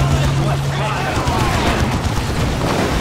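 Grenade blast in Dawn of War 2: Retribution, a 2v2 real-time strategy battle, heard as a dense, sustained wash of explosive noise and gunfire rumble with a low hum, steady and loud throughout the clip.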